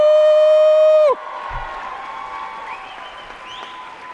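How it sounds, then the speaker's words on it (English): A high school graduation crowd in Rochester bursts into applause, cheers and whoops for the class of 2019 right after a sustained electronic tone cuts off. The clapping carries on loud and steady to the end. "Let's give yourselves a round of applause."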